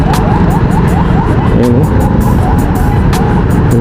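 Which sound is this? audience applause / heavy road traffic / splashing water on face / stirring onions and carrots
heavy road traffic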